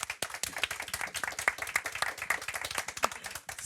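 A live audience applauds with dense, continuous hand clapping, close and even, holding steady for a few seconds.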